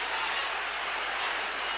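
Stadium crowd at a 1974 South Africa versus British Lions rugby Test match, a steady, dense roar of cheering and applause filling the whole stretch without a break.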